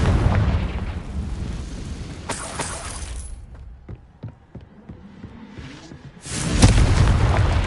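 Spell explosions from Hogwarts Legacy gameplay on PS5: a loud broadband blast at the start, scattered smaller impacts and crackles in a quieter middle stretch, then another heavy booming burst near the end.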